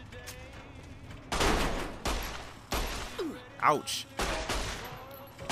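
Gunfire in Fallout: New Vegas comes in several loud, close bursts of shots with gaps between them, mixed with brief voices and a pained grunt.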